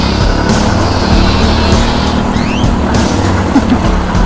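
Go-kart engines drone loudly and continuously on a racing track, with a brief rising tire squeal as a kart drifts midway, close and constant with no talk.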